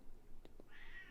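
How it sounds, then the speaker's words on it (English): A cat meows indoors, a single short faint call near the end of a brief moment, preceded by a couple of soft taps. "sorry about the cat, guys"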